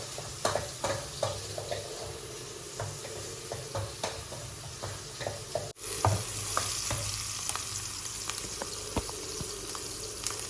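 Onions frying in a little oil in a cooking pot, a steady soft sizzle broken by scattered crackles and pops, with a brief dip midway before the hiss resumes.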